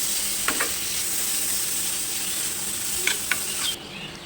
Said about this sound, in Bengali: মশলার সঙ্গে চিকেনটাকে ভালো করে নাড়াচাড়া করে মিশিয়ে নেব